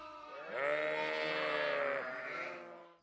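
A sheep on farmland gives one long, clear, wavering bleat lasting a couple of seconds, close and fairly prominent.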